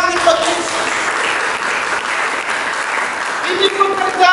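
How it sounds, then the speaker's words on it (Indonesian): Church congregation applauding during a sermon, a steady dense clatter of clapping hands that holds at an even level throughout, with a voice faintly audible beneath it. "Mari kita berikan tepuk tangan bagi"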